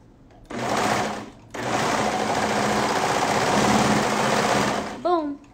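A sewing machine stitches a crew neckband, a close steady motor buzz in two runs separated by a short pause, ending abruptly with a brief squeak.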